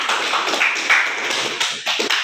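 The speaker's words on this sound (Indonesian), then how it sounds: "Tepuk tangan dulu untuk teman kalian." A junior high class claps for a classmate, a fairly loud wash of many hands clapping close together with brief dips, no voices over it.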